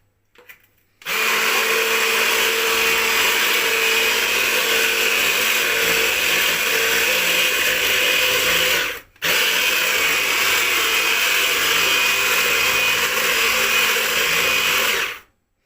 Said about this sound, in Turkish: Ondan sonra şekerimizi koyuyoruz ve karıştırıyoruz.